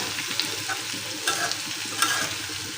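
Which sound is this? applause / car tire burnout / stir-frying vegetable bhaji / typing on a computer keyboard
stir-frying vegetable bhaji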